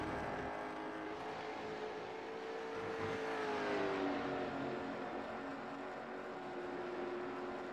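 A Pontiac Trans Am engine revs out while held in second gear, a continuous rising and falling roar with a clear pitch sweep, steady and fairly close throughout.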